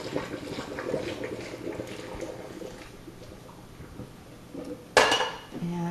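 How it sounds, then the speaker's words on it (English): Kitchen pot being emptied while making a butter sauce for pumpkin walnut ravioli: faint clinks and liquid sloshing, then a sharp metallic clang of the pot near the end. "I'm going to empty my pot."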